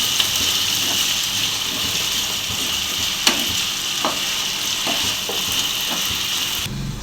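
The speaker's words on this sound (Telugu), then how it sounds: "సాల్ట్ కరివేపాకు వేసుకున్న తర్వాత బాగా మిక్స్ చేసుకోవాలి." Meat fries in a pan with salt and curry leaves, a steady loud sizzle running throughout while a spoon stirs and scrapes, with a few sharper clacks of utensil against the pan.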